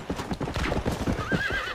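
A horse gallops in the Western video game Red Dead Redemption, its quick rhythmic hoofbeats close and steady, with a shrill wavering whinny rising over them near the end.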